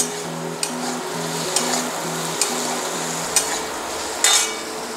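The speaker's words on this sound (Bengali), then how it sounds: "দুটি গাজর আর বিট কিছুটাও একসঙ্গে ভেজে নেব।" Mushrooms, capsicum, carrots and beetroot fry together in a little oil, giving a steady sizzle broken by regular spatula taps against the pan and a faint low hum beneath.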